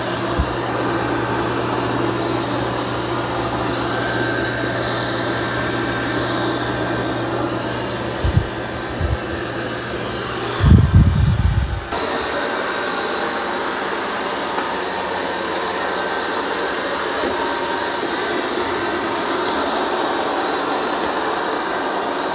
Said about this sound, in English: It's going to reattach the mop pads, clean them, and then do a second mopping.